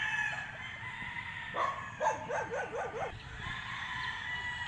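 A super sweater bull stag gamefowl, class AB, crows faintly at a farm sale while a dog barks in a run of quick yips nearby and other farm noise carries in the background.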